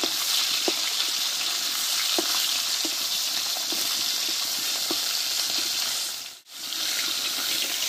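Pieces of Chandana fish fry gently in oil, a steady close sizzle with scattered soft pops and taps, briefly dipping to near silence before the hiss resumes.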